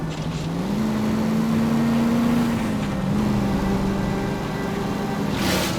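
A car driving in the video game L.A. Noire, its engine a steady hum that climbs and shifts pitch as it accelerates, with a continuous drone throughout and no talking.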